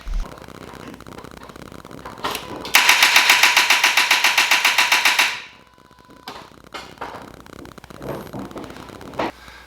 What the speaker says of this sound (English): so as you heard, it's just click, click, click, click, click, not the rapid click